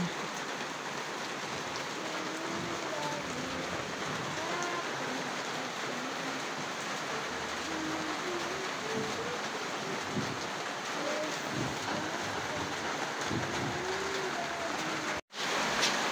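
Steady heavy rain pours down in a dense, continuous hiss, with drops pattering on surfaces nearby and no voices.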